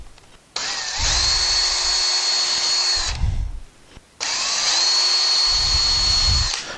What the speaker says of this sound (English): So next we're just going to drill through it, just use a small drill bit